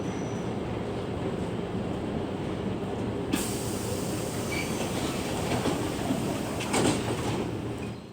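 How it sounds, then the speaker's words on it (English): An Amtrak train races through snow at 80 mph, a continuous loud roar and rattle of wheels and cars rushing past, with a brief sharper hiss partway through. "At 80 miles an hour, an Amtrak train doesn't slow for snow, it blasts straight through it."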